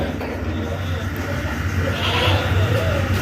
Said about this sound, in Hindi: ये एक बकरी है मेरे पास राजनपुरी